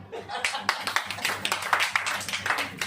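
Audience at a church gathering clapping by hand, loud and close, with irregular overlapping claps and a few voices under them.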